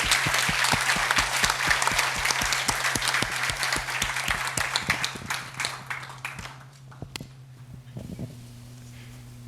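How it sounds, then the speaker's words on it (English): A conference audience applauds at the end of a panel discussion on modern software development, a dense burst of clapping that thins into scattered claps and fades out, with a low hum underneath. "Let's give them a big round of applause."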